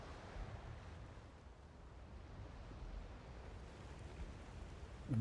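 Waves surge and wash steadily in the video game Still Wakes the Deep, a low continuous roar of sea and wind with no talk over it.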